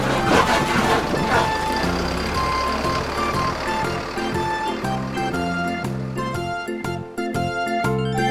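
A toy dump truck plays electronic music with steady beeping tones, loud and close, running continuously over a few seconds.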